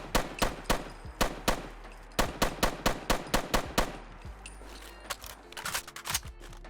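A semi-automatic AR rifle in Fallout 4 fires a rapid series of sharp, evenly spaced shots in bursts, close and loud, with mechanical clicks between volleys and no voices.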